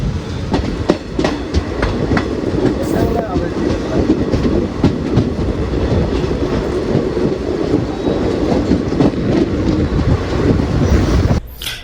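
The Coimbatore Intercity SF Express runs along after leaving Kannur, heard from inside with a loud continuous rumble and rhythmic clickety-clack of wheels over rail joints throughout.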